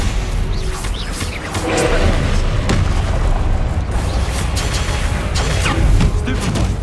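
Combat spells crackle and boom during a fast Hogwarts Legacy duel on PS5, a loud, continuous barrage of magical blasts, impacts and crashes with a voice calling out between them.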